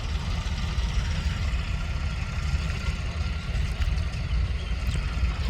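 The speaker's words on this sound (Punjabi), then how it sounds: "ਟਰੈਕਟਰ ਆਪਣੇ ਚੱਲਣ ਦੇ ਆ" A tractor engine idles on a farm during the potato harvest, giving a steady, loud, low rumble that holds without a break from start to end, with no voices.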